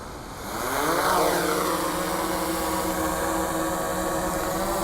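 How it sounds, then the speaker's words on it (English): A DJI Mavic 2 drone on its first flight, its motors spinning up with a rising, whining buzz that settles into a loud, steady propeller drone close by. "Mavic 2, first flight."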